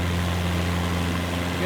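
Steady loud Cessna 172 propeller engine drone at full revs, a constant buzzing roar with no break.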